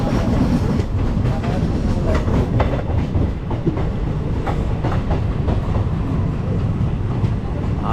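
Steady rumble and clickety-clack of the 13177 Jangipur Road Express running on the rails near Dum Dum Junction on the main line toward Barrackpore, continuous and loud from onboard with rhythmic wheel beats throughout.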